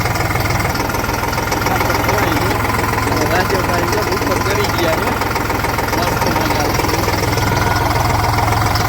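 A tractor engine runs loud and steady nearby, its constant mechanical drone continuing throughout while someone speaks over it.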